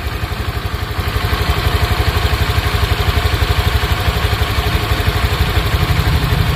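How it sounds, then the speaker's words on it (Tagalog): A Click 125 V3 scooter engine idles steadily up close, its rapid, even putter slightly loud and rough just after a cold start. "ito po yung tunog ng kanyang makina"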